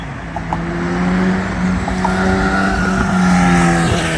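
Road traffic passes close by near Roquebrune-sur-Argens, with a loud, sustained engine drone and rising tones as vehicles go past, steady for the whole stretch.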